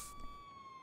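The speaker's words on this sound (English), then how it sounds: "I realized it was a siren" A police siren sounds in the video game GTA Online, a steady high wailing tone held well in the background, faint and distant over low ambient noise, with no one speaking.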